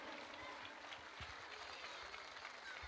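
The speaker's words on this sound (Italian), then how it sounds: "Facciamo un applauso ancora." Audience applause in Piazza Castello in Miglionico, a steady dense wash of clapping that holds evenly throughout, faint and distant.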